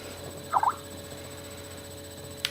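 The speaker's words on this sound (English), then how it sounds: "That was the sound of a Skype message." A short Skype message notification chime rings once, clear and moderately loud over quiet room hum. A faint click follows near the end.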